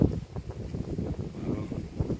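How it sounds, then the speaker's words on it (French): Strong south wind buffets the microphone at an apiary, a low, rumbling, gusty roar that swells and dips continuously throughout, with no clear talking. "il y a pas mal de vent, le vent du sud là"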